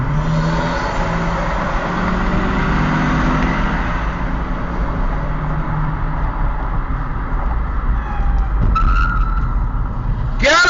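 Cars racing on a public road, with a loud, steady roar of engines and road noise throughout, ending in a sharp tire screech or skid near the end; no talk.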